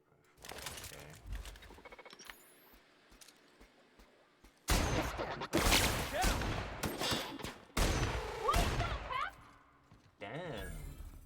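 Assault rifle fire in The Outer Worlds comes in several loud, ragged bursts of rapid shots separated by quieter gaps, with a voice talking between them.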